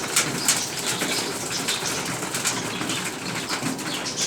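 A crested pigeon comes in, its wings flapping in several quick, crisp bursts close by. Faint cooing and soft rustling sound from the loft in the background.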